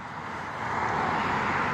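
Steady roar of car traffic on a road, with vehicles passing close by on both sides, a continuous broadband wash of tire and engine noise that swells slightly louder partway through.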